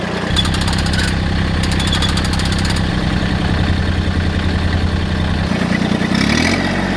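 A farm tractor engine runs on an Ohio farm before bush hogging, chugging steadily at close range with a loud low throb, a rattling buzz in the upper range and a brief shift in pitch near the end.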